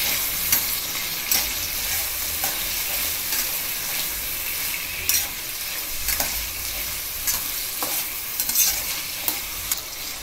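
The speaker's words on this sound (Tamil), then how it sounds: "தக்காளி வெங்காயத்தை நல்லா வதக்குங்க." Tomato and onion sautéing in a pan for a prawn fry make a loud, steady sizzle up close, broken by frequent scraping stir strokes. Nobody speaks.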